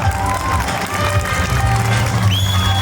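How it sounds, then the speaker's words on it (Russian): Audience applauding at an outdoor concert in a village park, broad crowd clapping mixed with cheers and a low amplified hum, steady and fairly loud throughout. "Ваши аплодисменты, друзья!"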